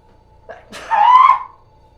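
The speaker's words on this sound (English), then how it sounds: "Okay, I'm gonna sneeze here." A single sneeze, a short sharp breath followed by a burst, heard fairly faintly and alone.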